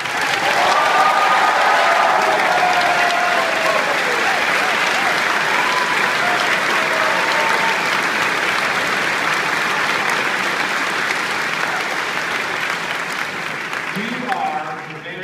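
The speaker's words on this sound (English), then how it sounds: "give yourself a round of applause" A graduating class at a commencement ceremony applauds themselves, a large crowd producing loud, sustained, even applause that tapers slightly near the end, with scattered cheers mixed in.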